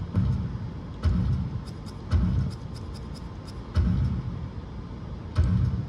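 A Dungeons and Dragons pinball machine's dragon motor runs in repeated mechanical cycles, about five low whirring surges with clicks between them, heard close and alone.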